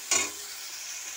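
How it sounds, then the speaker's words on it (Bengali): Salted tomatoes in a frying pan for fish curry: one brief scrape of a spoon, then a faint continuous sizzle close by, with no talking. "নুনটা দিয়ে আমি টমেটোটাকে ভালো করে নাড়বো।"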